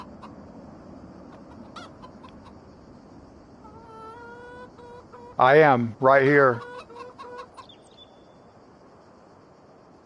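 Chickens in the Calm Lands farming game clucking, a faint soft clucking and insect buzz that swells into two loud, close squawking calls near the middle, with someone briefly speaking earlier.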